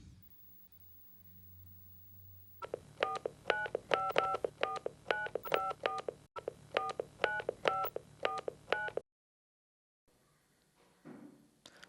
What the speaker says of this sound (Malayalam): നീ ഫോൺ ചെയ്യേ